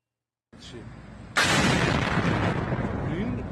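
Explosion over a military factory in Isfahan, Iran, heard from a roadside: after a faint rumble, a loud sudden boom hits and gives way to a sustained roaring, crackling wash that stays loud to the end.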